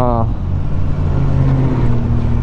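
A BMW S1000R motorcycle engine revs hard and fast, a loud, steady droning roar with a brief higher harmonic burst at the start.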